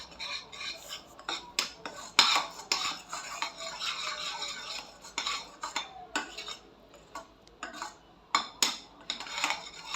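A spoon repeatedly scrapes and clinks against a pan while jaggery syrup for chikki is stirred, giving irregular close metallic strokes with no talking.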